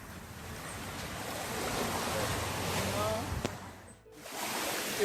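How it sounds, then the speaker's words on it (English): Ocean waves wash steadily onto Long Bay Beach in Negril, a continuous broadband surf roar with wind buffeting the microphone, briefly dipping near the end before swelling again. "the sound of the ocean"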